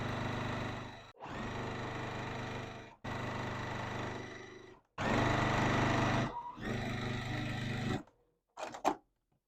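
A sewing machine stitches borders onto a quilt block in several long, steady runs of close, loud motorized whirring, separated by brief pauses, ending with a few short bursts.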